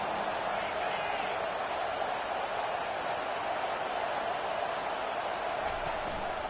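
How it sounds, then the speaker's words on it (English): Football stadium crowd at a Miami vs. Notre Dame rivalry game roaring steadily and loudly throughout, a dense wall of cheering with no break. "These fans are going absolutely nuts."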